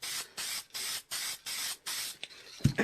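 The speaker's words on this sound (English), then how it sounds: "So I'm just going to add a little bit of clear coat right here." Clear coat sprayed from an aerosol spray can during a spray paint art session: six steady, even hissing bursts with short gaps between them, then a soft knock at the end.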